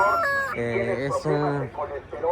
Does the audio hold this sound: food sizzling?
no